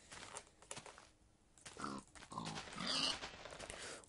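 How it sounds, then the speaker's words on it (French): A pig in Minecraft gives a few short grunts and snorts amid quiet, scattered clicks and thumps of gameplay, fairly soft and close. "Donc, on va tuer un petit cochon."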